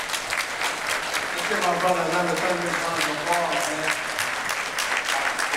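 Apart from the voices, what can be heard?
audience applause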